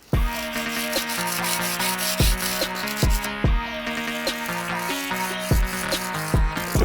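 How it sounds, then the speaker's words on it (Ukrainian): A knife blade is drawn over coarse 100-grit sandpaper, producing loud, steady, rhythmic rasping strokes repeated about twice a second, close up with no talking. "Зараз спробуємо хоча б вийти на заусенець з допомогою цієї наждачки."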